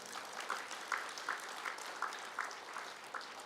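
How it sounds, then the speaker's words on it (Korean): A congregation at an early-morning church service gives faint, rhythmic applause of thanks, steady claps in regular pulses heard from a distance. "감사의 박수."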